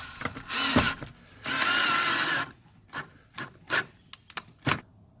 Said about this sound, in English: Okay, so let's pop the last screw in here.